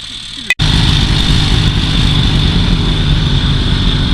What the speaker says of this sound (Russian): Сейчас вот на одном снегоходе вот Володя съездил, дорогу пробил до избушки